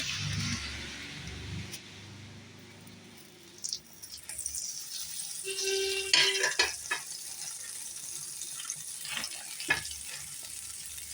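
Butter melting on a hot dosa tava, a soft frying sizzle with scattered clinks of metal utensils against the pan, close by and moderately loud, broken by brief scraping sounds.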